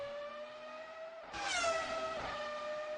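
A Ferrari F1 V10 car drives in the video game Assetto Corsa, its engine holding a high steady whine before suddenly changing pitch and rising into a louder, brighter scream as it revs on.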